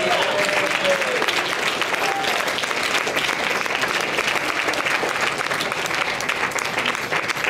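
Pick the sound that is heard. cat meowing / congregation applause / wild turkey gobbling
congregation applause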